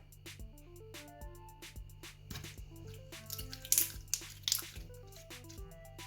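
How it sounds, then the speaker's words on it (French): Clear transparent slime, jiggly and scented like Palmolive blackcurrant shower gel, being stretched and squished by hand, giving soft wet squelches and clicks that swell into a few louder bursts midway, close and alone over quiet background music. "c'est tout simplement un slime basique transparent"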